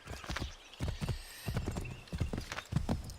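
A horse in the Assassin's Creed 3 video game gallops with rapid, rhythmic hoofbeats close by, the clip-clop steady throughout, and neighs partway through.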